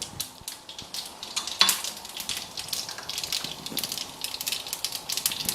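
Mustard seeds and cumin crackle and sizzle in hot oil for an aloo sabji, a dense close patter of pops with one sharp clink of a utensil on the pan.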